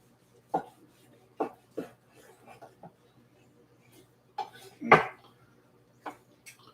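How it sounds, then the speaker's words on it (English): A knife cutting into a rested Al Capone steak on a board, a few sharp clicks and scrapes of the blade in an otherwise quiet room, with a stronger knock partway through. "Let's give it a cut and see how she looks."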